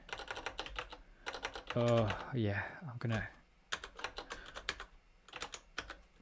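Rapid computer keyboard typing during a Haskell programming session, a steady patter of close key clicks that breaks off while someone speaks briefly, then resumes.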